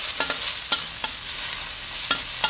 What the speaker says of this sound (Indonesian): Lalu tumis kembali sampai udangnya